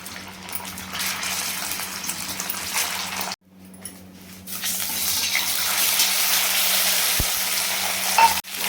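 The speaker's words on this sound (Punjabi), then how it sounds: "ਤੇਲ ਆਪਣਾ ਗਰਮ ਹੋ ਚੁੱਕਿਆ ਹੁਣ ਆਪਾਂ ਥੋੜੇ ਥੋੜੇ ਇੱਕ ਦੋ ਕਰਕੇ ਇਹਨਾਂ ਨੂੰ ਪਾ ਦਵਾਂਗੇ" Rice balls deep-fry in hot oil in a kadai, giving a loud, steady sizzle that briefly cuts out and then returns more strongly, with no talking.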